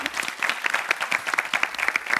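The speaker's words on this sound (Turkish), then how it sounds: "Bir moral alkışına." A studio audience at a Turkish Lingo word-game show claps in sustained, lively applause, dense and fairly loud throughout.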